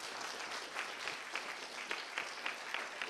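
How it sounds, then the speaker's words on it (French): Faint applause for exchange students at a university international exchange presentation, soft scattered clapping from an audience with distinct individual claps heard throughout. "on peut les applaudir très fort"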